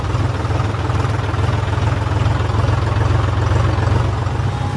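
A new John Deere tractor's engine idles steadily with a loud, constant low rumble and vibration for several seconds, close up, with no other sounds standing out.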